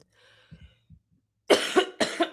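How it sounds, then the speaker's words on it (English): A person coughs, starting with faint throat sounds and a few small hacks, then two loud, harsh bursts of coughing close to the microphone. "I promise I wasn't coughing this much before I got overly excited about the show."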